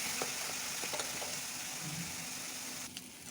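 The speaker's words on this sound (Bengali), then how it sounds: "সব মশলা ভালো করে কষে নেব।" Ground turmeric, chilli, cumin and coriander powders with spice paste fry in a pan for a vegetarian potol-potato dalna, a steady close sizzle with a few soft stirring scrapes and no talk.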